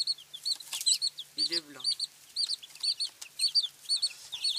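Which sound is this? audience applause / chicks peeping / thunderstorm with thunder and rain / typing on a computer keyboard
chicks peeping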